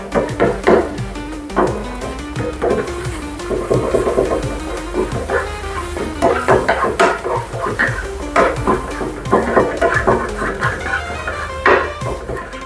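Scrambled egg cooking in a pan, with dense, continuous scraping and clinking as a utensil stirs against the metal, quick irregular strokes close by and a faint sizzle underneath throughout.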